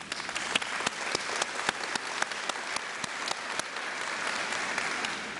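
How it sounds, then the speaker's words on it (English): A school event crowd in Sevier County applauding, a dense steady round of many hands clapping at moderate distance, with no talk over it. "So I think we owe Walters State Community College a round of applause as well."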